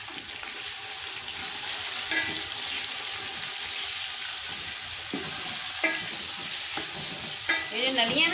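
Beef pieces sizzle in hot oil over lightly browned onions while being stirred for nihari, a steady frying hiss broken by scraping spoon strokes and a few sharper clinks against the pot.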